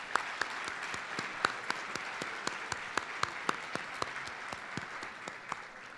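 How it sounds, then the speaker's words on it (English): A crowd applauds at an evening gathering: steady, fairly distant clapping with sharper individual claps popping out above the wash. No voices are heard. "Let's give them all one more round of applause"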